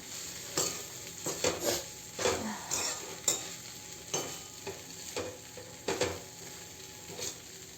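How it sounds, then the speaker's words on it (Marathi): Soaked poha being mixed in a pan for Maharashtrian kande pohe makes quiet, repeated scraping stir strokes at an irregular pace over a faint sizzle. "आणि आता घालूया आपण पोहे, जे आपण भिजत टाकलेले होते। त्याला छान असं मिक्स करून घेऊया आपण।"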